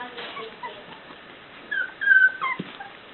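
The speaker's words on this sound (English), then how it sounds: "And there's Yarrow saying, I want in on that action." A young puppy whimpering and giving small yips, with thin high whines rising near the end and one short yelp, heard close and fairly faint, without speech.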